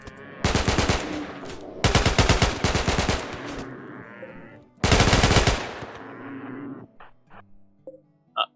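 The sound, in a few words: automatic gun firing in spray bursts in the video game RimWorld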